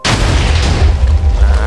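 An explosion from a Mars lucky block in the Minecraft video game: a sudden loud boom that starts abruptly and rumbles on heavily for nearly two seconds.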